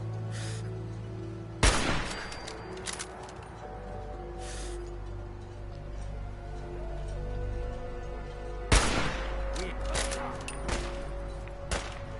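Gunfire in the video game Fallout 4 Far Harbor: two loud, sharp shots several seconds apart, each trailing into ringing echoes, with scattered quieter pops over a steady low musical drone.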